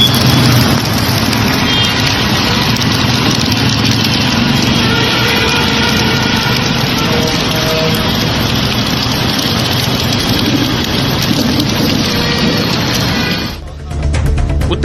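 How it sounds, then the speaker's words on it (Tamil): Road vehicles drive through flooded streets after heavy rain, giving a steady, dense wash of engine and tyre noise through standing water that holds at a constant level before cutting away abruptly near the end. "இதனால் வாகனங்கள் தண்ணீரில் தத்தளித்து சென்றன."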